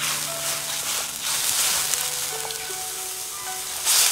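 Sichuan peppercorns, star anise, cinnamon and bay leaves sizzle in hot oil in a wok, a steady close crackling hiss that swells louder at the very end, with no one speaking.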